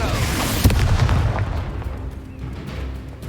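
Incendio and Confringo spell blasts from the Hogwarts Legacy video game: a heavy booming burst early on, followed by a rumbling decay and lingering low crackle.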